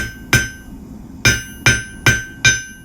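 A hammer strikes a hot steel taper while forging a J hook, five sharp ringing blows, one alone then four in a quick, even run, loud and close.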